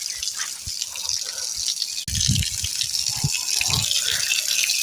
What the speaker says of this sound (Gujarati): આ જો બહુ દિવસ પછી આવ્યું છે પાણી